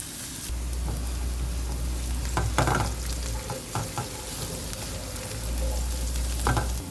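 Garlic, onion and ginger sauté in olive oil with a continuous close sizzle, broken by several sharp scrapes and clatters of a stirring utensil and a low hum underneath.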